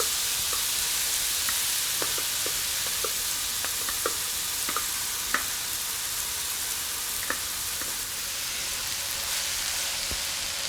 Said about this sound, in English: See it sizzling in the oil?